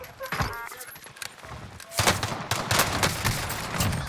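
Gunfire bursts in a first-person shooter where teammates gun down the player, starting with sparse shots and then moving into dense rapid volleys of close, sharp reports, with game sound and voices mixed in.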